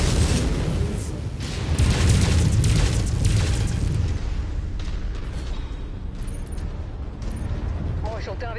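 Missile barrages bursting around a battlemech in MechWarrior 5: Mercenaries, a thick overlapping roar of explosions and rumble, loudest in the first seconds and then a sustained grinding wash, with a voice speaking over the din.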